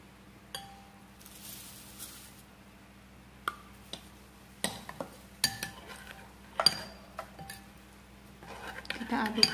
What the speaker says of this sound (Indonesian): Kita aduk dan kita campurkan dengan bubuk cabainya.